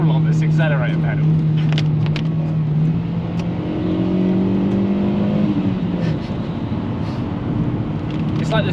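A cheap used car's engine drones and revs while driving, its pitch climbing through a gear then dropping and rising again, heard from inside the cabin under road noise and talk.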